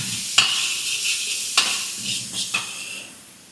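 Ground gongura leaves are stirred in a pan, a soft low sizzle with three or four distinct scraping knocks of a spoon against the metal, alone without talk.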